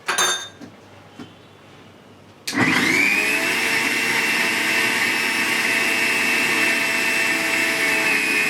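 A kitchen blender whirs loudly and steadily while mixing chikoo vegan nice-cream, starting abruptly after a few clinks and taps on the jar and running at a constant high whine.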